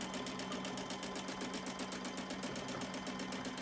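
A sewing machine stitches a fabric bowl cozy, its needle clattering in a fast, even rhythm under a steady motor hum, faint and close with no voices.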